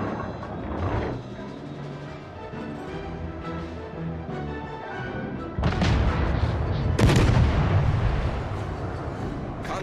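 Naval gunfire in World of Warships: Legends, with booming cannon blasts and rumbling explosions, heavier salvos arriving in the second half over a steady low engine drone.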